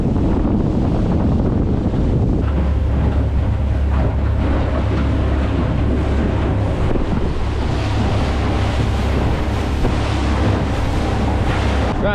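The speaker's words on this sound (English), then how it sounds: "there is actually a little bit of wind" Wind blowing over the sea aboard a small fishing boat near a coastline, a loud, constant roar of gusts buffeting the microphone over rushing water and a low engine hum, with no talking.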